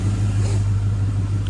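Dodge Hellcat engine running just after a jump start, a loud, steady low-pitched idle rumble with a slight rise in revs, heard close up with no talking.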